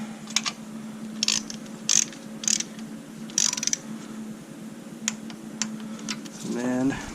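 A ratchet wrench with a socket clicks in short rapid bursts while tightening an upper intake plenum bolt on a Buick Lucerne 3.8 engine. The close, crisp ratcheting sits over a steady low hum, and a voice comes in near the end.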